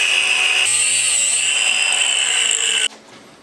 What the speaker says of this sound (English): I'm just gonna cut it with a grinder